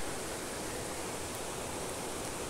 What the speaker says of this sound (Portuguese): Aqui perto também tem uma cachoeira que faz bastante barulho.